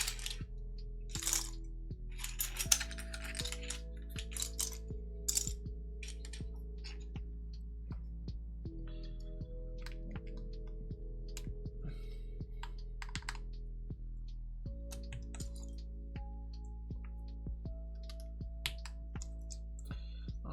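Keycaps being pressed onto an Ellora65 mechanical keyboard, a long run of sharp plastic clicks and taps at an uneven pace, close and clear over a steady low hum, with no talk.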